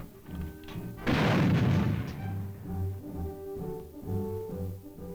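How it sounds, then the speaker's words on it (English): An anti-aircraft artillery gun fires one heavy, booming blast that rolls out for about a second, set over a low droning background of engine or machinery hum. "But there is more than loading and firing to operating a large force of anti-aircraft artillery"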